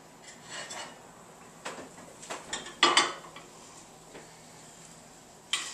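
A roasted pork tenderloin in a pan comes out of the oven with a few light clinks and a brief metallic clatter of the pan, then quiet.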